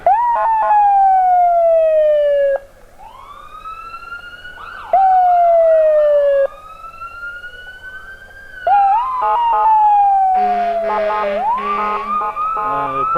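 A fire department rescue vehicle's siren wails loudly and close in a street parade, sweeping through long rising and falling tones, switching patterns several times and ending in a rapid, harsher yelp.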